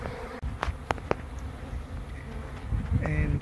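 Honey bees from a feral swarm buzz and fan around a hive box outdoors, a steady close drone with a few sharp taps and handling knocks.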